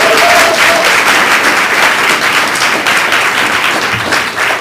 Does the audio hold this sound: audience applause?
yes